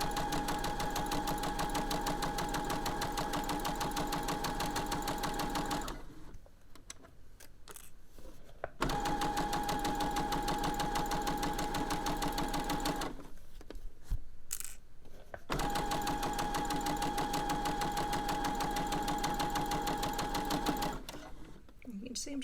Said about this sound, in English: Your machine will take the fabric through on its own.